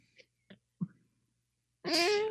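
A person imitates a cat with a drawn-out, whiny vocal meow, close and clear, coming after a few quiet soft sounds and near silence.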